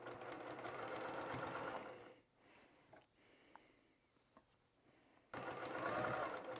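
A sewing machine stitches a fabric bear's head onto its body around the neck hole, running in steady bursts, loud and near, with a quieter pause in the middle before stitching resumes.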